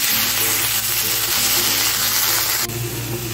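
Chana saag with prawns frying in a pan, a steady close, loud sizzle that stays constant throughout with a slight shift in tone near the end, no voices.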